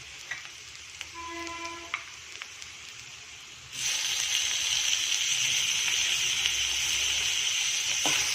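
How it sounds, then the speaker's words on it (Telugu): Tomato pieces frying in hot oil for homemade pasta, a steady broadband sizzle that jumps louder midway as they hit the pan and then holds a dense, continuous crackle, with a few faint clinks early on. "ఇది కూడా బాగా ఆయిల్లో ఫ్రై అవుతుంది"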